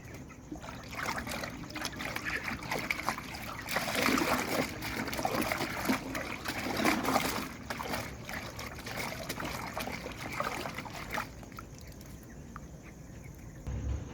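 Vaccine medicine for broiler chickens being stirred into water on a poultry farm, giving soft sloshing and trickling water sounds that swell in the middle and stay low and steady throughout.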